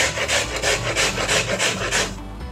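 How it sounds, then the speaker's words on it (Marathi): Carrots rubbed against a grater for carrot halwa, a steady rhythmic rasping scrape with quick repeated strokes, close and fairly loud, with no voices. "अशा प्रकारे आपले सगळे गाजर किसून घ्यायचे."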